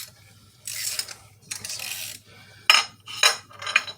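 Wrench working a nut loose on a Jeep 4.0 transmission housing: several short metallic ratcheting and scraping bursts separated by pauses, close and moderately loud over a low hum.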